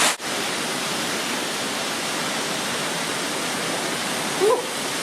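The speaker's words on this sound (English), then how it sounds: "this behind me is Ribbon Falls" Ribbon Falls in the Grand Canyon roaring as a steady, close broadband rush of falling water, with a faint brief voice near the end.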